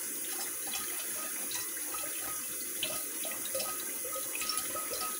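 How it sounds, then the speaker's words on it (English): Kangen water running from a tap into a one-gallon jug, a steady close hiss of pouring water with faint splashes, continuous and alone without any talk. "filling up a 1 gallon jug"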